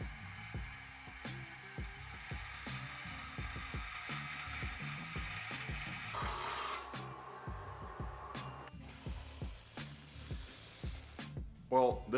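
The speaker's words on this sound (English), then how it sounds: "The blade that I have on my saw is pretty old, so it takes forever." An old, worn saw blade cuts slowly through a metal motor plate for an M3 LS swap, giving a steady rhythmic rasping scrape with repeated strokes and a brief clatter at the end.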